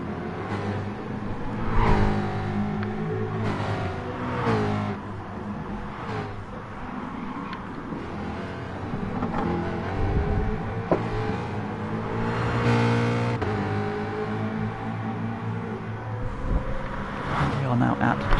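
Supercars race past on the Bathurst circuit in GT Sport, with a steady roar of engines, revving swells and passing sweeps, heard under continuous commentary.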